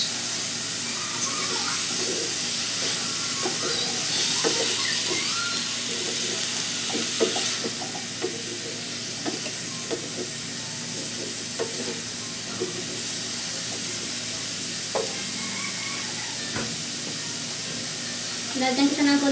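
Diced chayote tossed into a pan of sizzling chicken liver, a steady frying hiss with repeated scraping stirs of a spatula, close and continuous throughout.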